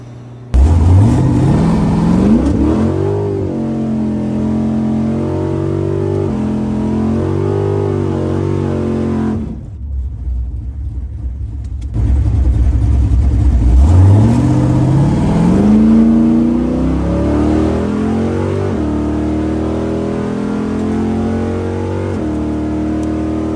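Drag racing car launches and accelerates hard down the strip at Rocky Mountain Race Week, engine climbing loudly through gear changes, a brief drop in sound, then a second roaring acceleration run, close and loud without talk.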